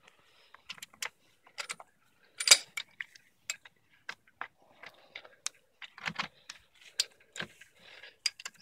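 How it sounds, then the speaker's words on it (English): Socket wrench ratcheting in a tight space during a car oil change: a series of sharp, clicky ticks in short irregular bursts, fairly close and moderately loud, with no voices. "Since I have a socket wrench, I can just crank even though there's not a whole lot of space"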